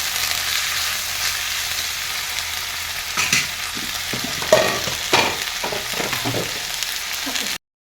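Chicken pieces for a carrot curry sizzle loudly and steadily in a hot pan, with a few stirring scrapes and clatters over the frying hiss and no talk.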